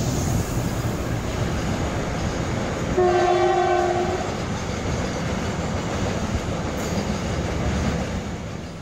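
A train on India's North Western Railway in Rajasthan rumbles past loud and continuous, with a horn blast sounding midway through the pass.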